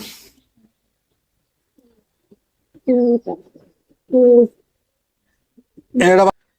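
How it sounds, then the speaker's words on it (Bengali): Australian doves cooing nearby in a pigeon loft, three separate low, resonant coos in a slow rhythm, with quiet stretches between them. "এগুলো হচ্ছে অস্ট্রেলিয়ান ঘুঘু"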